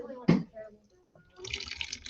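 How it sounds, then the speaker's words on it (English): Water pours in a heavy stream into a model river in a live science flooding demonstration, a steady rushing splash that builds near and loud after a brief voice and a short pause. "I think you need to pour a little more in it. All right, heavy stream."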